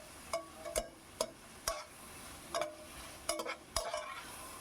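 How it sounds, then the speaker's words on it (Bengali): Ginger-garlic paste being stirred into butter in a pot, with a spoon scraping and knocking against the metal about eight times at uneven intervals over a soft, steady sizzle. "আদা রসুন বাটাটা অ্যাড করে দিলাম দিয়ে আবার ভালো করে একটু নাড়ি চাড়িয়ে নিচ্ছি"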